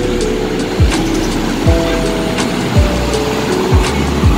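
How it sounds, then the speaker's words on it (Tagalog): Car traffic streams past on a busy road at Masinag near the end of the LRT line in the morning, with repeated vehicle pass-bys whooshing close every second or so over a continuous engine drone. "Traffic na."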